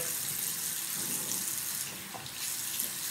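Bathroom tap running into a sink while someone wets their face, a continuous close splashing stream with small shifts in the flow as hands move through the water.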